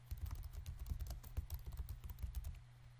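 Rapid clicking keystrokes on a computer keyboard, typing new text into a design template, with a steady low hum underneath; fairly close and continuous for about two and a half seconds, then fading.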